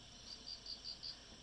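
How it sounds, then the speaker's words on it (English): Rhythmic chirping of crickets from an air purifier's cricket sound setting, a steady series of short pulses repeating over a soft hiss, fairly quiet and with no voices. "Crickets."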